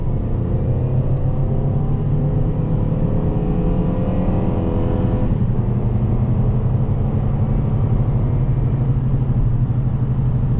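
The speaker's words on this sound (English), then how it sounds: "These tires are pretty chopped and noisy too, you'll probably hear." A 2009 Chrysler Town & Country Limited minivan with a 4.0L engine cruises on worn, chopped, noisy tires. A steady low road rumble and tire roar hold throughout with a faint high whine, and no one speaks.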